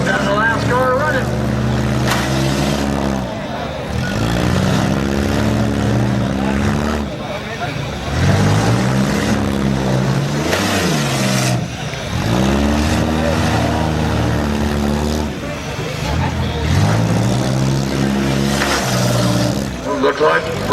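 Demolition derby cars at the 2012 Jefferson County Fair, engines roaring and revving hard in repeated surges and drops, loud and close with rising pitch sweeps as drivers push their battered cars.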